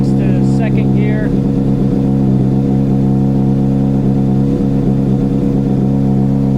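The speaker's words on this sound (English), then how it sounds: "Put it up into first, let the clutch out, let it ride until it blinks to second gear." A Honda CBR600RR motorcycle engine pulls away in first gear with a steady, loud, buzzing mid-pitched drone that holds through the whole stretch and rises slightly under throttle, with a brief voice near the start.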